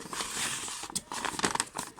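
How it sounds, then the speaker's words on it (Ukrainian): A paper bag from a Lego Ninjago set crinkles and rustles close to the microphone, with a run of sharp crackling crumples and a brief tearing-like burst near the end. "Це паперовий пакетик."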